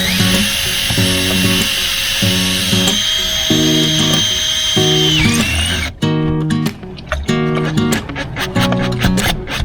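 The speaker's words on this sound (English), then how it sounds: "I'm gonna drill some holes, and then we're gonna secure this thing." A power drill bores holes while securing a fitting on a boat, giving a high, steady whine that runs unbroken for several seconds over background music and then cuts off.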